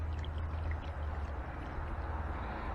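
Water being poured out for heating on a cheap camping stove, a steady gushing trickle close by that continues evenly for a few seconds without talk.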